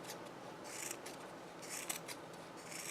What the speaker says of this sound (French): Des ciseaux à tissu pour que ça coupe bien.